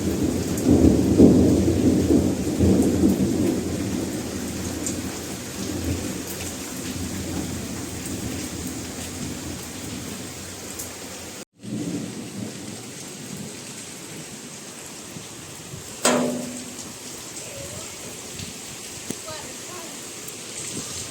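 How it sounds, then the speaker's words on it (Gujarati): Heavy monsoon rain pours steadily in Rajkot, a loud continuous roar that thins slightly, with a deep rumble of thunder early and a sharper crack later, voices faint beneath. "આટલો વરસાદ થયો"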